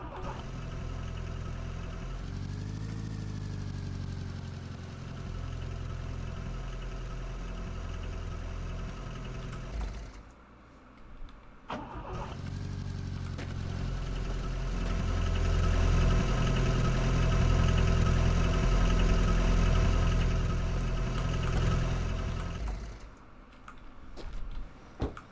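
Car engine idling in the video game The Long Drive, a steady rumbling idle with a rhythmic ticking knock, dropping briefly near the middle before swelling louder and fading out at the end.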